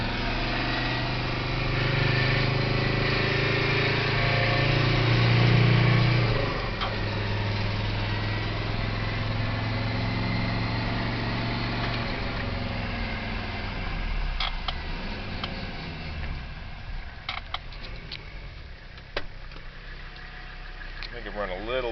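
A turbo diesel Mazda engine running on propane injection drones steadily up close, with a brief louder surge early on, then settles to a lower hum marked by light clicks and ticks.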